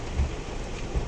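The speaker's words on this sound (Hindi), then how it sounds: "बहुत तेज बरसात हो रही है।" Heavy monsoon-style rain pouring down outside a car, a dense steady hiss with a couple of low thumps, loud and continuous with no talking.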